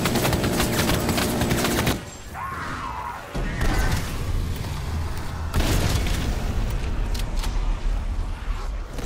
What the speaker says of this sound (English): Firing death machine.